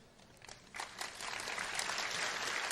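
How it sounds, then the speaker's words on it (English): Applause from a lecture audience after a university academic lecture, a soft, steady patter of many hands that builds over a few seconds, heard from a distance in a large hall with no talk over it. "Let us express our gratitude to Professor Elman for his wonderful lecture with a round of applause."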